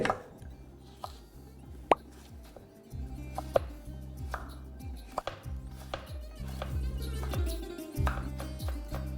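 A knife slices a carrot into long strips on a cutting board, giving a run of crisp, close chopping taps in an uneven rhythm over a low background hum, with no talking.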